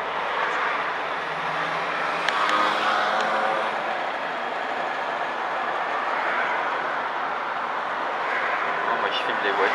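Trabant cars drive in a safari rally, giving a continuous buzzing engine drone that swells and fades slightly as they pass at moderate distance, with occasional clicks and outdoor noise.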